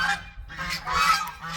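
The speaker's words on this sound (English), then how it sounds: "And of course the geese have to be noisy" Several geese honk in quick, overlapping calls, fairly close and loud, with a short pause between bursts.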